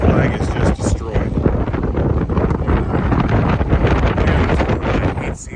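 Strong, dangerously high wind roars and buffets loudly and continuously outdoors near a torn flag, with heavy gusting rumble across the microphone.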